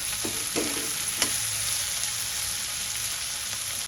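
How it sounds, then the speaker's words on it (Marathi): Chopped spring onion, capsicum and salt sautéing in a pan, with a steady, close sizzle and a few scraping stirs near the start. "आणि पातीचा कांदा छान परतून घेऊया. शिमला मिरची घालूया, मीठ घालूया, मी परतून घेऊया."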